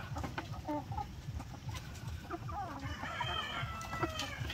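Asil chickens on a farm crow and cluck repeatedly, several birds close by, with farmyard noise steady underneath.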